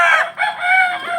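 A gamecock rooster gives a short, loud, close crow with a clucking break in the middle, sounding alone without any talk.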